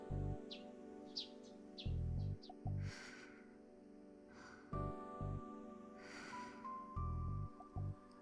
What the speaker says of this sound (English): I met the morning with the sound of chirping sparrows and the quiet snoring of a girl.